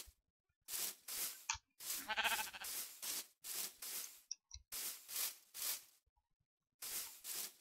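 Sheep in the video game Minecraft bleat repeatedly, a string of short, clear, separate bleats with brief silent gaps between them, close and fairly loud with nothing else behind.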